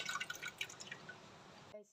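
Tamarind water for rasam is poured into a pot in a short, close stream of splashing drips that stops abruptly, leaving near silence.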